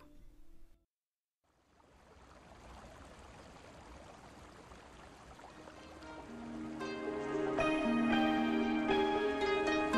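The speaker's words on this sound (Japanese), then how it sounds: "いい水の音だ。" A steady rushing stream of water in the Naruto Shippuden video game, quiet at first after a brief gap, then swelling as tonal game music rises over it in the last few seconds.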